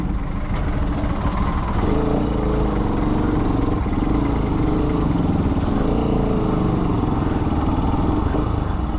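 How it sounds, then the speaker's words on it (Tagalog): A Honda RS200 motorcycle's engine hums steadily in heavy Balakat traffic, with the low drone holding at a constant level and surrounding road noise throughout. "grabing traffic talaga sa Balakat uh"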